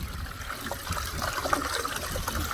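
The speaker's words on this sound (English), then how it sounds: "You see the pond is completely frozen over, except for where the waterfall drops its water." Water from a garden pond waterfall trickles and splashes steadily into a koi pond frozen over in about 14-degree cold in McKinney, Texas, a continuous close babbling flow.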